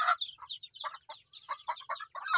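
Chickens cluck close by on a farm in a quick, uneven string of short clucks, with no talk.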